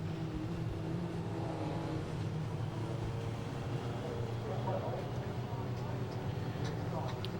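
Legends race cars sit idling on the grid at Brands Hatch, a steady low engine rumble with occasional blips, heard under a commentator's voice.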